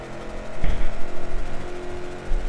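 A video game car driving offroad in Trackmania Turbo, a droning engine that surges with a bump or thud partway through and rises again near the end, close and steady with no talk.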